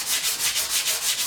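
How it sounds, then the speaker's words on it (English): A hand sanding tool rubs back and forth on car paint with a quick, even rhythm of about seven strokes. Each pass makes a close, loud, scratchy swish, and no one speaks. "It's the first time I've used this style sanding tool."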